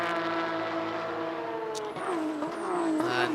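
Race cars on track at Indianapolis, a steady loud engine drone with a rising pitch sweep as one car passes close, then shifts higher, continuous without a break.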